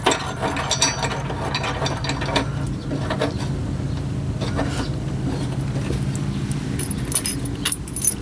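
A ratchet wrench tightening the bolts on a running board during installation, with continuous rapid clicking that runs steadily for several seconds at close range, plus faint metallic jangling.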